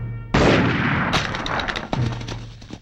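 A gunshot effect in a Bengali drama: one sudden loud blast with a rumbling decay, followed by a second sharper report about a second and a half later, with no talk over it.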